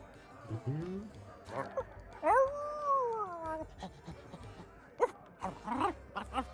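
Dog howling and whimpering in the pirate video game Sea of Thieves, with long rising and falling wails and short whines spread through the clip, heard over game ambience and a person talking.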